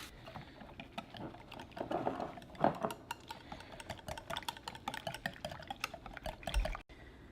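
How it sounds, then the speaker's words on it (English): A whisk beats two cracked eggs in a bowl for Southern cornbread, a quick, quiet, steady clicking and tapping with light liquid sloshing throughout, no talking. "go ahead and crack 2 eggs. All right, and then we're going to whisk that up."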